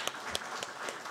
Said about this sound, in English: Let's also welcome the Germans with a round of applause